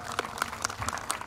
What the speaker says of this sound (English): So please, a big round of applause for Bob Coley.